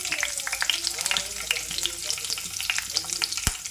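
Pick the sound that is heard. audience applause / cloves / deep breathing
cloves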